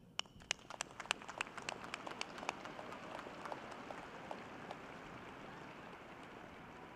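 An audience at a winter commencement ceremony claps, sharp individual claps at first swelling into a steady, distant patter of applause that slowly thins out in a large hall.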